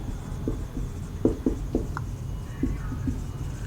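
Pen scratching out a maths solution on paper, a few short strokes at an irregular, unhurried rhythm, faint and close against low background hiss.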